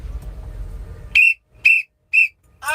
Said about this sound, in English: Get my whistle ready.